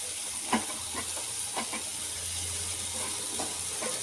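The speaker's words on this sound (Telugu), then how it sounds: "నేను కాసేపులా దీంట్లో వేయించుకుంటాను" Dry nethili fish fries in a pan with tomatoes for a curry. A soft, steady hiss carries a few faint crackles and pops, quiet and close.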